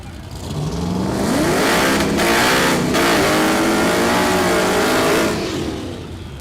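Ford Mustang drag car in the left lane at Mid America Dragway in Geuda Springs, Kansas, accelerating hard down the strip, its engine note climbing through rising gear pulls, loud and close with a steady roar.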